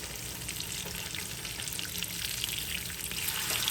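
Almond-flour-breaded keto salmon katsu frying in a pan, a faint, steady crackle and sizzle of hot oil running throughout without voices.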